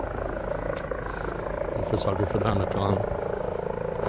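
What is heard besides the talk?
police helicopter flying overhead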